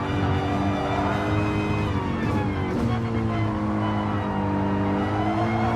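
A race car engine in a sim endurance race at Autodrome Maggiore drones loudly at high, steady revs, pinned and holding pitch near the limiter with a slight shift partway through, alone without talk.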